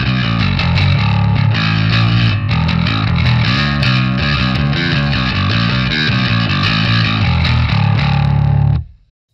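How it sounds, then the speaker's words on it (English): A bass guitar plays through a distortion pedal into a bass cabinet, producing a loud, thick, continuous distorted riff with steady rhythmic notes that cuts off abruptly at the end. "let's add some distortion."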